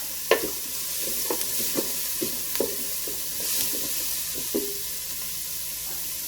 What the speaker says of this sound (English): We're just going to stir them around, and you can see that that Speedi is hot.